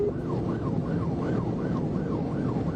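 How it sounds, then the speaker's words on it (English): A police cruiser siren wails in a steady rising-and-falling cycle during a high-speed chase, loud and continuous over heavy road and engine roar. "As soon as the sirens hit and Burleson pushed his cruiser to 115 miles"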